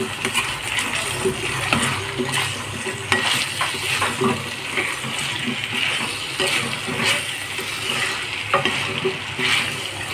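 Vegetables for bhogi khengat stirred and mixed in a pan, loud close scraping and clinking strokes in an uneven rhythm over a continuous sizzle.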